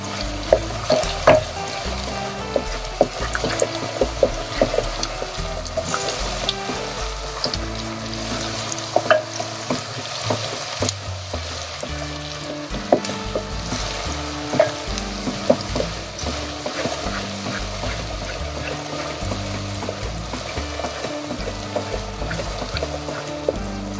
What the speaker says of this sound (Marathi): आलं लसणाची पेस्ट आणि पुदिना, कोथिंबीर छान भाजून घ्यायचं ह्याला